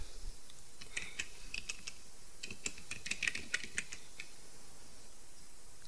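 Fingers type a file name on a computer keyboard in short bursts of crisp, close key clicks with brief pauses between them.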